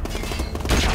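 A single flashbang grenade bursts in Call of Duty: Modern Warfare Remastered, a loud, sharp bang erupting near the end after a second of dense battle noise.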